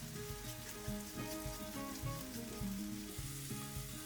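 Onions fry in rendered chicken fat in a pan with a steady close sizzle and crackle, joined by a few soft stirring scrapes. No voices are heard.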